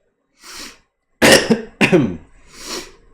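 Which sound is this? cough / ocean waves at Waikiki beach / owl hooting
cough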